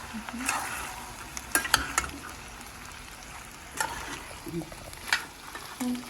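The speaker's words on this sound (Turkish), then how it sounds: "Böyle kavuruyoruz. Bir kere de kavruldu." Meat and dried beans sautéing in a pot for a Turkish etli kuru fasülye, a steady low sizzle broken by scattered scraping and clinking stirs close by.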